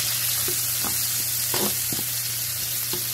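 Tomato sautéing in a hot pan for a Filipino ginisang upo dish, a steady close sizzle broken by a few soft scraping stirs.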